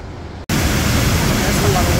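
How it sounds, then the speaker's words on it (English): Rushing water from a river or waterfall in Jasper National Park, a dense, steady roar that starts abruptly after a brief quiet moment and stays loud and close. "I hear water running"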